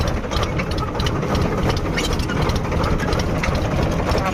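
A farm tractor's engine idles steadily and close by in a village field, a continuous low rumble with a faint knocking beat, no voices over it.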